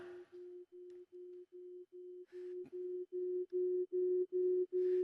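Steady sine-wave microtones standing for shades of color, played as a rising series of short pure tones in an even pulse and growing louder, with faint hiss between some notes.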